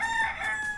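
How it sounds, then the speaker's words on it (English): A rooster crows once in Key West, close and clear, a short strained call carried over faint outdoor background. "Chicken."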